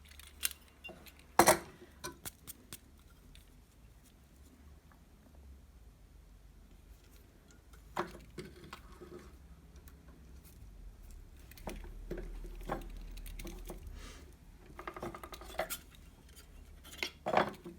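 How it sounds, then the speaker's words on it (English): A piercing saw cuts copper sheet with faint, irregular scratchy strokes and small metallic taps. The sound is quiet and close, with a couple of sharper clinks. "Pivot your saw, turn your work and cut out a petal."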